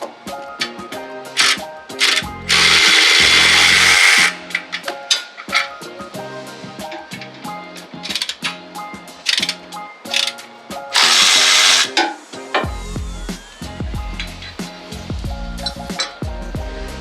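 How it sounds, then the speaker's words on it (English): A power tool with a 13 mm socket zips off exhaust flange bolts on a 2021-or-newer Ford F-150, loud bursts of whirring rattle alternating with ratchet clicks and metallic clatter close by. "grab that 13 millimeter socket and remove both bolts on either side of the flange"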